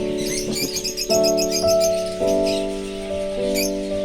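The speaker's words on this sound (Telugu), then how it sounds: "ఎన్ని రకాల చిలుకలు ఉన్నాయో" Birds call from the trees, several overlapping tonal notes and chirps with sustained harmonic cries, moderately close and continuous over a low background hum, with no talk.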